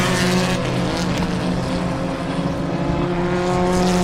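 Polo Cup race cars lapping at the MRF Indian National Racing Challenge, engines holding a steady, loud drone with a sustained tone throughout, no voices.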